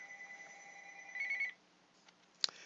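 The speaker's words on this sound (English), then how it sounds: "we had a phone call come in" A telephone rings faintly in the background of a classroom maths lesson, a thin steady tone with a brief warble before it cuts off, then a soft click.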